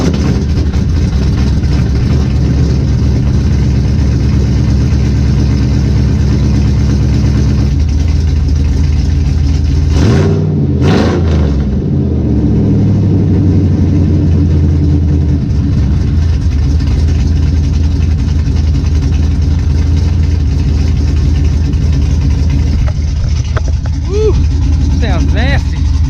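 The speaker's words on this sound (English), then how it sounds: "It has a really deep drone because of where the exhaust is stopped at right now" A Chevrolet Silverado SS pickup engine idles with a deep, loud exhaust drone, then revs up sharply once before settling back to a steady rumble.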